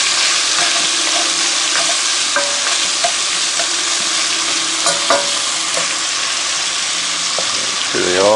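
Beef pieces browning in a Dutch oven for stew, a constant loud sizzle and frying hiss with occasional stirring scrapes and small pops, close up.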